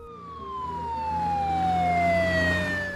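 A loud fire engine siren wails steadily in one long, slowly falling tone, close by, with a low engine rumble beneath and no talk.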